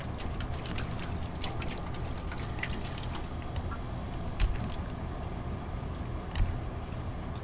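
A pump drains water from a flooded basement in a video game, a steady, faint watery pouring and churning with scattered small splashes and ticks, two soft thumps near the end, and no speech.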